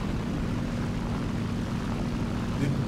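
A Swedish J21 propeller fighter in a video game, a constant low droning engine hum throughout, loud and steady without speech.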